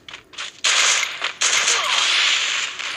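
Gunfire in a Free Fire custom match, with a few quick single shots followed by a loud sustained burst of rapid automatic fire close by.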